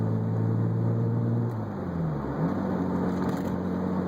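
A car accelerates slowly through its gears toward 45 mph, its engine droning steadily up close, with the pitch dropping and resettling once midway as a gear changes. No one speaks.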